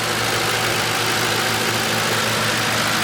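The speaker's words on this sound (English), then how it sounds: "Very smooth running engine" A 2008 Ford Crown Victoria Police Interceptor fire and rescue vehicle idles with a steady, even engine hum and broad mechanical noise, close and constant with no talking.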